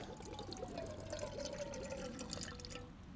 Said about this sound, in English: I'm just going to add a little bit of water in there